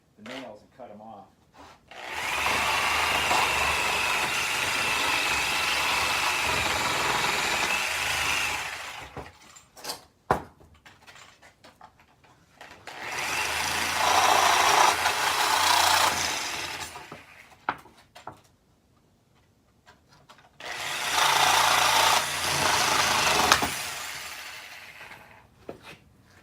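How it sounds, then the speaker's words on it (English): A Sawzall reciprocating saw fitted with a metal-cutting blade slices through nails behind pallet boards in three loud, close bursts of rapid rasping, each lasting several seconds, separated by quieter pauses with scattered clunks. "I tend to like to use the Sawzall with the metal cutting blade, and then just get behind the nails and cut them off"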